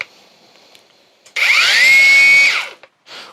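A Makita battery-powered grinder spins up with a high whine, runs steadily for about a second, then winds down, preceded and followed by faint handling noises.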